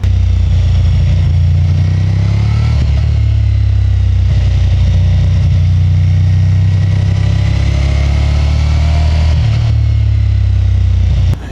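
The V4 engine of a 2025 Ducati XDiavel V4, Euro 5 Plus compliant, rumbles loud and close during a test ride, a steady deep throb with slight rises and falls in revs.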